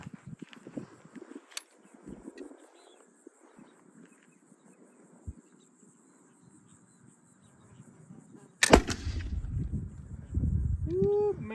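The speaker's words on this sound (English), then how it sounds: "All right, we're ready to fire again." A muzzleloader fires a paper cartridge loaded with a round ball and BBs: one loud, close blast near the end, followed by a rumbling report, after a stretch of quiet outdoor ambience.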